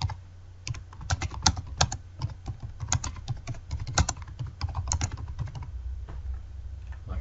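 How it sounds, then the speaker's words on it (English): Steady keystrokes on a computer keyboard while text is entered into an online marking tool, a close, continuous run of irregular clicks for several seconds with no talk. "you can actually type some text in the body of the work"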